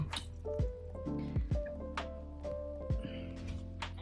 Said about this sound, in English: I'm gonna rinse my brush real quick.